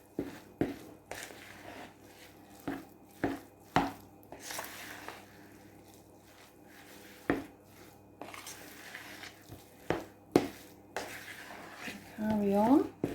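A spoon mixes and slices through a soft jacket potato filling, giving repeated close, sharp taps and scrapes against the dish in an irregular rhythm, with quiet talk in between.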